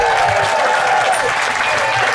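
Audience applause at an outdoor folk music festival on a farm, a loud continuous wash of clapping with a faint tonal hum and some voices mixed underneath.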